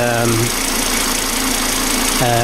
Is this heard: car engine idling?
yes